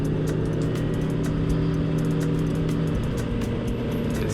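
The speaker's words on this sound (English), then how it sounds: "Honda behind us is gonna go ahead and pass by." A Honda Element car drives past motorcycles on a city street, a continuous loud engine and road roar with wind buffeting close by, and the engine pitch shifts as it passes.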